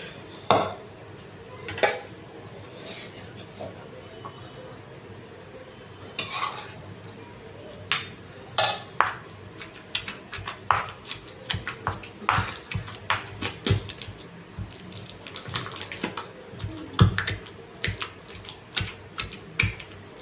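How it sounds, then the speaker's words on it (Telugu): Pounding eggplant chutney in a stone mortar (rolu): a long run of sharp, irregular knocks and clatters, sparse at first and then quicker and denser, fairly faint and close, with no talk. "ఇప్పుడు పచ్చడి అంతా దంచేసాను"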